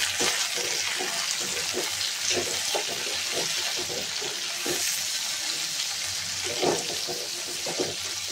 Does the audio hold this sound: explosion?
no